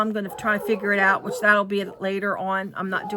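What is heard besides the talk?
No distinct noise like a dog, phone or traffic.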